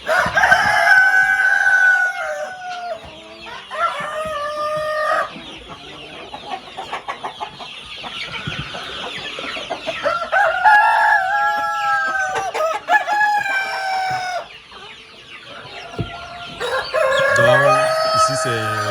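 Heavy farm roosters of about six kilos crow loudly and close by, with repeated cock-a-doodle-doo calls overlapping each other and clucking from other fowl between them.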